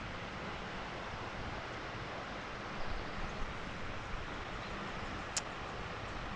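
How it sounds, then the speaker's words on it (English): Steady broadband rushing of a river on the Colorado Trail fills the clip evenly, a constant roar with no voices and only a faint brief high tone near the end. "It's a nice sound. The river."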